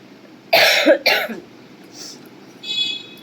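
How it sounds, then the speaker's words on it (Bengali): Two harsh coughs in quick succession, close and loud, followed by a quieter breathy sound and then a faint high squeak. "সর্দিটা একদম কাশিতে কনভার্ট হয়ে গেছে।"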